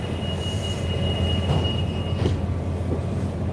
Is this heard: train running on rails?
yes